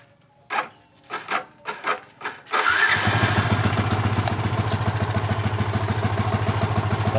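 Yamaha Vixion motorcycle with a battery-drain fault being started: a few short cranking bursts, then the engine catches and settles into a loud, steady, rapidly pulsing idle close by.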